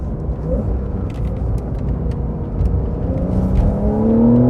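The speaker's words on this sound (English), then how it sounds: "just changes the characteristic of the engine sound" A 2020 Porsche 911 Carrera 4S engine accelerating uphill, a continuous loud rumbling drone with a rising whine toward the end, heard from inside the car without talk.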